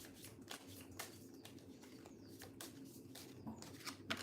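Faint, quick riffling bursts of playing cards being shuffled, repeated several times at a soft, even pace.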